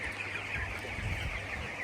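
Twenty-day-old chickens cluck softly at a distance over a steady low hum in a poultry shed during intense heat; no speech.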